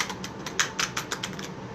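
A deck of Angelarium divination cards is shuffled once by hand, giving a quick run of crisp, close papery clicks and flutters for under two seconds with no talking.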